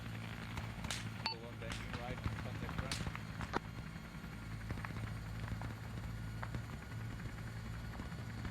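An ArmA 3 helicopter comes in for a pickup, its low steady rotor and engine drone running throughout beneath radio chatter and voices, with a few faint crackles and beeps mixed in.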